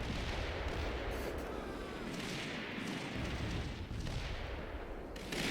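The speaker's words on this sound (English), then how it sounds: "Jackal's 105mm artillery starts falling with deadly effect" Incoming 105mm artillery shells in the Combat Mission Shock Force 2 war game: a continuous, distant-sounding barrage of dense rumbling impacts and crackling blasts that blur together at a steady, fairly quiet level.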